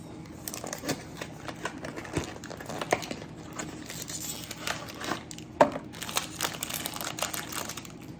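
Crinkly plastic candy wrapper, a package of red Twizzlers-style twisters, rustling and crackling up close as it is opened, with irregular sharp crackles and small clicks throughout.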